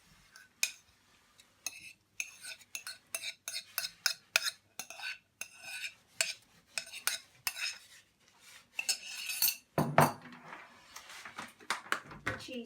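Vegetables stirred in a pan with a utensil, giving a run of quick, irregular clinks and scrapes close by, some louder knocks near the end, with a quiet gap in between.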